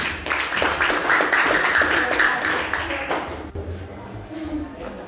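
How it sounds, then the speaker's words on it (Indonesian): A school class claps together, a lively stretch of brisk hand clapping for several seconds that tapers off, with a teacher's voice over the end. "Ya, tepuk tangan."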